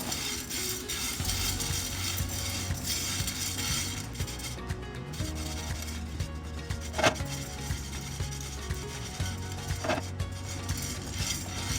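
Chana dal being stirred as it dry-roasts in a pan, a steady scraping and rustling of spatula against grains and metal that runs throughout, with a couple of sharper clinks near the end.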